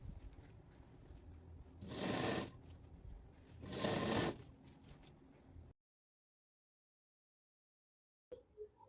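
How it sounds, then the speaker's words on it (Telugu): Close sewing machine stitching the armhole of a knee-length frock, with two loud bursts of whirring separated by quieter handling noise, then silence and a few faint taps at the end. "నేను ఆమ్ రౌండ్ చివరి నుంచి స్టిచ్చింగ్ చేసుకుంటూ రావాలి"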